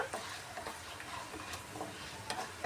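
Tamarind pulihora being fried and stirred in a pan: a low steady sizzle with light scraping and tapping from the stirring.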